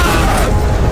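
A loud, booming explosion fills the whole moment, a dense rumbling blast with heavy low-end roar and no pause.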